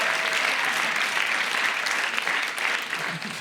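A comedy-show audience in Pigalle, Paris, claps steadily, a dense patter of applause that holds at an even level throughout.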